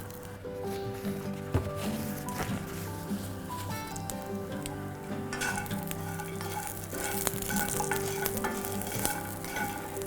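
Garlic and hazelnuts fry in olive oil, giving a continuous sizzle close by, with frequent stirring scrapes and light clinks of a utensil against the pan throughout.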